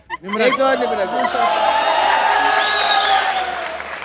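A studio audience on a Pakistani cricket quiz show breaks into loud applause and cheering after a brief spoken word, the clapping swelling quickly and holding dense and close before easing slightly at the end.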